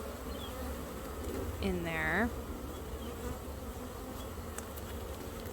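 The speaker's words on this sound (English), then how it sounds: "bees are just flying into that sugar" Honeybees buzz around an open top bar hive, a steady insect drone under a short nearby voice.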